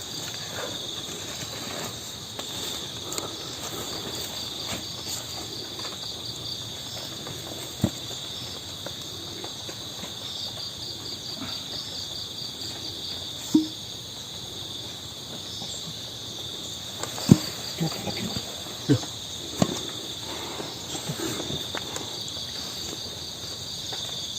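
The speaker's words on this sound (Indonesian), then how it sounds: "Jangkrik Mas." Crickets chirp continuously in a steady high-pitched drone for the whole stretch. Scattered soft clicks and taps come through faintly beneath it.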